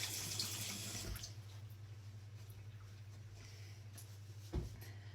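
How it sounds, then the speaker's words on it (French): A running tap splashes as fingers are rinsed under it, a steady hiss of water near the mic for about a second before fading to a quiet trickle, with a soft knock later. "Je me lave les doigts."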